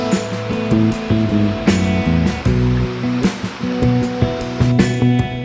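Steady broadband rush of the Ilocsuan Falls waterfall runs through the whole stretch, partly masked by louder tonal music playing over it; no voices.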